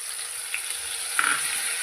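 Tomatoes and a ground paste of ginger, cumin and green chilli fry in a pan for a vegetarian squash ghonto, giving a steady close sizzle with a brief louder hiss as the paste hits the oil. No one speaks.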